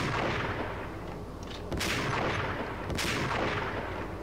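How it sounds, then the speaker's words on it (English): Gunshots in Max Payne, fired at a lock, heard as two sharp cracks over a dense, noisy rumbling background. "After shooting the lock, what do you want now?"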